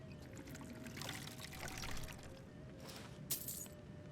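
A water container is refilled in Skyrim, giving a faint, close trickling pour with a light clink partway through and no talk over it.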